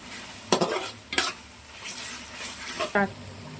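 Garlic paste frying in a pan for egg biryani, with a few sharp scrapes of a spoon stirring against the metal over a soft, steady sizzle.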